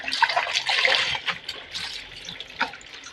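Water trickles and splashes in bursts during outdoor laundry washing, with uneven dribbles, small spills and brief louder gushes close by.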